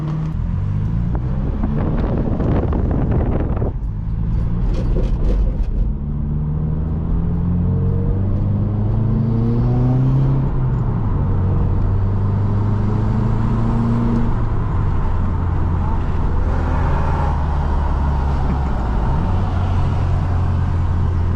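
A modified Subaru WRX accelerates hard while racing a Supra, its engine note climbing repeatedly and dropping at each gear change, heard from inside the car over steady wind and road rumble.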